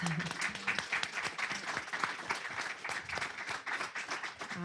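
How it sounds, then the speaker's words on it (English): A campus audience claps for a student panel, a dense, fairly close round of applause that holds steady through the whole short stretch. "let's give our panelists a round of applause"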